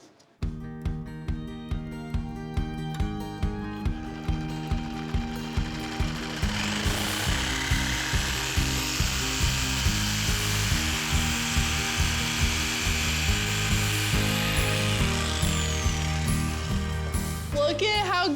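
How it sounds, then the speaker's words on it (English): A jigsaw rapidly chatters through a tube for a furniture leg, a sustained, loud, rhythmic buzzing cut running continuously with steady repeated pulses over background music. "This is my guide as I'm using a jigsaw to cut this out."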